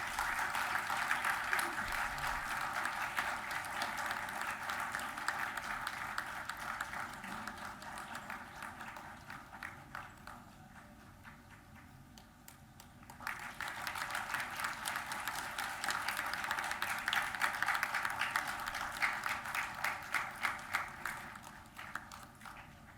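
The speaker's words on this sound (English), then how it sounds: "Please keep clapping." Applause from the gathering at an MoU signing ceremony with IIT Gandhinagar, rhythmic clapping that dips to a quieter lull midway and then swells again, a few voices faintly underneath.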